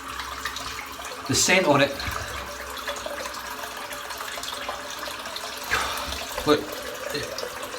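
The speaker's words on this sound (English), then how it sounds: "Let's get a bit of water in the sink." Tap water runs into a bathroom sink before a shave, a soft steady flow with a few louder splashy bursts, while someone talks over it.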